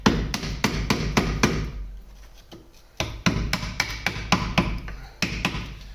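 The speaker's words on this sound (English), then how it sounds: "Just using a pry bar, a hammer, and that seems to be getting in behind it okay." A hammer strikes a pry bar to work old brake back plates off a Vauxhall Cavalier CD 2.0 16v, sharp close metallic taps in quick bursts with a short pause in the middle.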